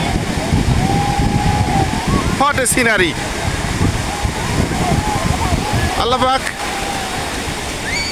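Surf breaking on the beach at Cox's Bazar, a steady broad wash of waves close by, with someone talking over it throughout.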